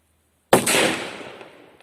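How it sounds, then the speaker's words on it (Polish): A Hammer firecracker goes off in a single sharp, loud blast after silence, its crack ringing out and decaying over about a second outdoors. "Hamerek też bardzo fajna petarda"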